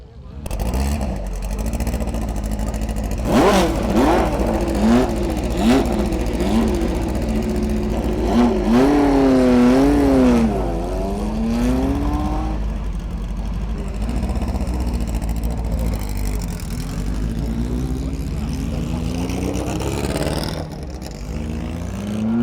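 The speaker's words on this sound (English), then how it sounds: "Race cars getting ready to go up the hill, being led by the Clark Edition Emira at the front." At a Jim Clark celebration event, race cars led by a Lotus Emira Clark Edition rev and accelerate uphill, engines rising and falling in pitch, loud and fairly near, with voices in the background.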